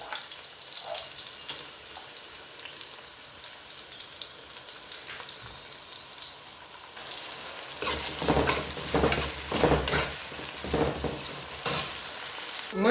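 Herring frying in hot oil, with a soft steady sizzle that swells partway through into louder crackling and stirring bursts.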